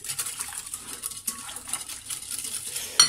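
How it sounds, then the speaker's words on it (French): A utensil stirs eggs, cheese portions and skimmed milk in a dish, giving soft irregular scraping and clinking close by, ending with a sharper clink. "Je vais venir mélanger."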